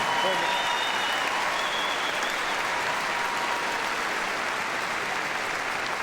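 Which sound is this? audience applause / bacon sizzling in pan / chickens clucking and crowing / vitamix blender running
audience applause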